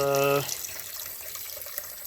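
Water rushes steadily through a newly installed water filter line, a close, continuous hiss that follows a short tonal burst at the start.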